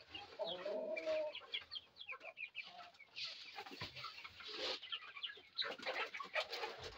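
A backyard flock of chickens, including a young Tiger-breed rooster and hen, clucks and calls continuously nearby in a busy, overlapping chorus, moderately quiet with no talking.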